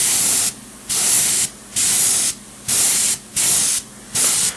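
White weathering paint sprayed across a model train car in five even, loud hissing bursts separated by short pauses, with no talking.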